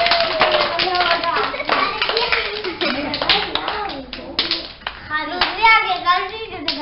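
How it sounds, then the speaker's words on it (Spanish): A group of children claps in a quick, uneven burst of applause that lasts throughout. Excited children's voices shout over and between the claps. "¡Aplauso!"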